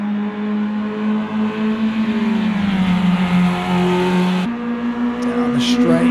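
Race cars accelerate down the straight during a full feature race at Cordoba, their loud, close engine whine holding steady, dipping and rising again with gear changes while a commentator talks over it.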